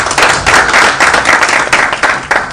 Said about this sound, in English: let's give a good round of applause to Honorable